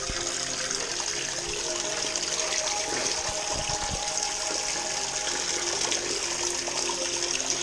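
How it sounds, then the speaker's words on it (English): Water in Rowlands Creek, a mountain stream in NSW, Australia, rushes and splashes nearby in a continuous loud hiss. A brief low thump sounds partway through. "Fresh mountain water."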